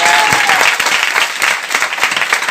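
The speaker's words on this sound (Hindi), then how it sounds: "एक बार जोरदार ताली बजाइए।" A large audience in India breaks into loud, sustained applause, dense rapid clapping filling the whole stretch with no pauses and no one speaking over it.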